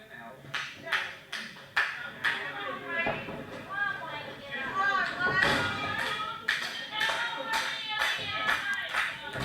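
A wrestling crowd claps in rhythmic bursts of sharp, steady beats, then breaks into excited cheering and shouting that swells loudly before the clapping resumes, with voices mixed in throughout.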